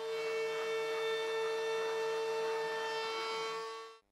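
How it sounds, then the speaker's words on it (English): A WorkBee CNC router running a profile toolpath to cut a wood bowl blank to final size, a steady loud tonal whine that holds evenly and then stops abruptly. "we're now going to cut the material down to its final size using a profile toolpath"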